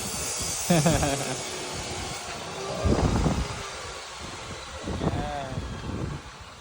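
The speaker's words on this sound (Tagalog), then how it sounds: "Ako kasi may bagyo nga siguro kaya ang hangin." Steady wind from a storm rushes and buffets against the microphone throughout, with a few voices talking intermittently underneath.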